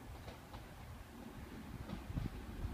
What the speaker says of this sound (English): Here's the train approaching.